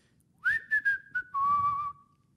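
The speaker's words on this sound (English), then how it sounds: "As me whistling awkwardly." A person whistles a short, slightly awkward tune up close: a few quick chirped notes followed by a longer sliding tone, with faint room noise behind.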